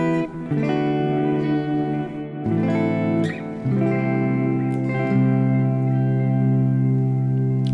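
An electric guitar played through a Quad Cortex with added reverb and trails on rings out in sustained distorted chords, with several changes and long washy tails, loud and alone without talk.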